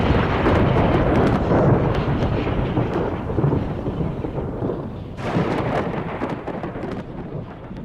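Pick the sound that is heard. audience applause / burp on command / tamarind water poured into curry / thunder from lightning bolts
thunder from lightning bolts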